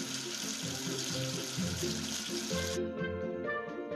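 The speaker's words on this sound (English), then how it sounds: "Wash away the soap with water." Tap water runs steadily for several seconds as soap is rinsed away. The sound is a continuous wash that stops abruptly near the end, with light musical tones playing over it throughout.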